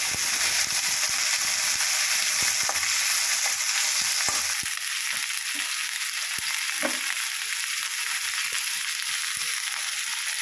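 Onions, green chillies and curry leaves fry in a pan for poha upma, giving a steady close sizzle throughout, with scattered scraping clicks of stirring and no talking.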